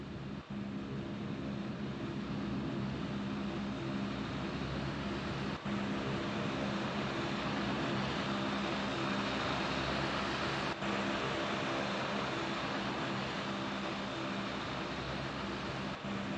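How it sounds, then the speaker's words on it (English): A Blue Angels C-130 Fat Albert propeller aircraft in a Roblox game gives a constant, dense, broadband engine roar that holds steady and even throughout, with no voices. "before you, the Blue Angels C-130"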